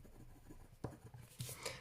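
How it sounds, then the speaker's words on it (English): Colored pencil, a hot pink used as the blender, rubbing over paper while coloring metallic and glass surfaces; soft, close scratchy strokes with a few sharper taps, quiet throughout. "just using my hot pink as my blending pencil"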